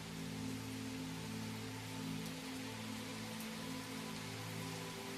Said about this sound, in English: The rain patters lightly on the stones and through the leaves of the trees.